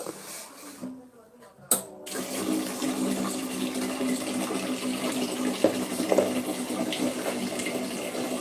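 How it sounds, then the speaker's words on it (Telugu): Water pours steadily into a cooking pan of fried ingredients, a continuous rushing stream after a brief clatter, with faint talk in the background. "ఇప్పుడు దీంట్లో వాటర్ పోసుకో"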